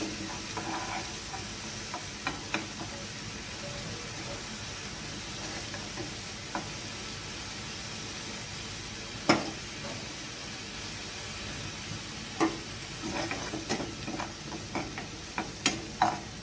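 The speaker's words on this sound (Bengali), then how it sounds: "পেঁয়াজটা হালকা করে ভাজবো" Onion fries lightly in a pan with a continuous soft sizzle and hiss, punctuated by a few sharp spatula taps and scrapes, close by with no talking.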